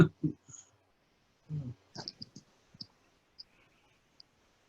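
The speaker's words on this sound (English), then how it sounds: "I was typing there" A handful of sparse, irregular keyboard clicks, close and fairly quiet, with soft low thumps and murmuring between them.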